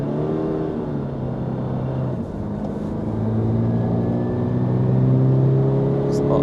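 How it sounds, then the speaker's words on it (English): A 2024 Toyota GR86 with a manual gearbox accelerates up through its gears, a steady near engine drone whose pitch climbs, dips at a shift, then climbs again, with road noise beneath. "So we'll accelerate into 4th gear."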